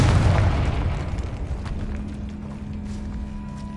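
A loud spell explosion from the wizarding video game Hogwarts Legacy, a heavy booming burst at the start that rolls off into a long, fading rumble.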